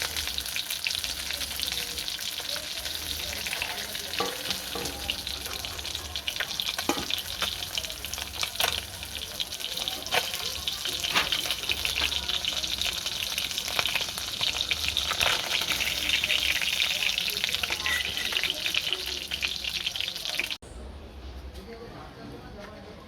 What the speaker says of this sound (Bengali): দেখুন মাছগুলো খুব সুন্দর লাল লাল করে ভাজা হয়ে এসছে।